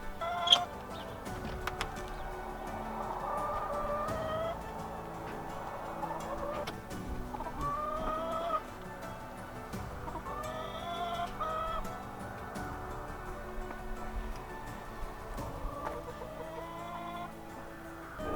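Chickens cluck and call steadily around a backyard coop nesting box in winter, close and continuous, with a brief crow-like call among the clucks and no talk.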